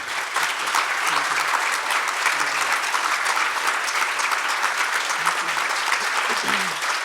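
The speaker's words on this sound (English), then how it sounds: "to give you a round of applause for the work that you do." A room audience at a sexual violence prevention event applauds steadily, a dense wash of many hands clapping at even loudness throughout, with no talk over it.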